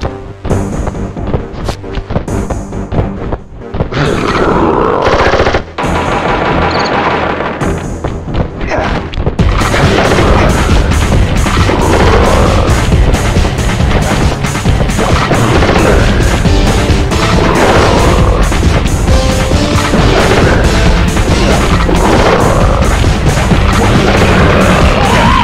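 A boss's heavy gun in the Sly 1 video game booms and crashes in a dense, loud barrage of repeated blasts and impacts, with game music and effects layered throughout.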